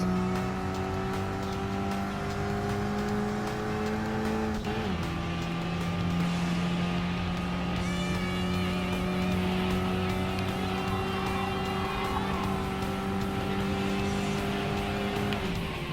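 A Suzuki Swift race car in Gran Turismo Sport at the Nurburgring holds a steady engine drone that drops in pitch as it shifts or brakes, with some tire squeal, constant and up close.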